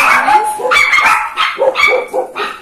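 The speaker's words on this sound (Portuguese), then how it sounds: "Os cachorros ali, mas não é ninguém que chegou, não." Several dogs bark close by in quick, overlapping bursts, mixing sharp barks with high yips and a short whimper.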